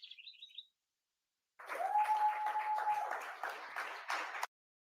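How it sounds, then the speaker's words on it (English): Clapping from a meeting audience, a dense patter of hands lasting about three seconds after a brief high chirp at the start, fairly close and moderately loud, with a thin steady tone running under the first half. "Why are they clapping?"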